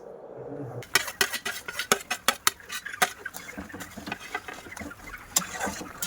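Fried potatoes and cauliflower are stirred in a pan of boiling water for a dalna curry, producing close, irregular metallic clanks and scrapes of a utensil against the pan after a quiet start.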